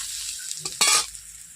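Chopped onions dropped into a hot pan with small fish and greens give a sudden loud sizzling burst after a few soft clinks, close up with no talk.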